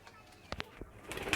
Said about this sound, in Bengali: একটা কালদম পায়রা দেখাচ্ছি